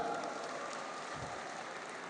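A crowd applauds steadily at the opening ceremony of the 2023 PORSENI NU, a Nahdlatul Ulama sports and arts event, a soft, even patter of many hands heard from a distance with no voices over it.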